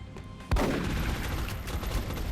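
A burst of gunfire in the XCOM video game cracks out at once and trails into a rattling volley, loud and alone.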